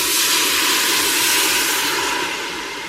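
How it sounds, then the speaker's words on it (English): Half a cup of red wine hitting a hot pot of seared beef in an Instant Pot, giving a loud, steady, close sizzling hiss that holds for a few seconds and eases off slightly at the end. "We're gonna deglaze with half a cup of red wine."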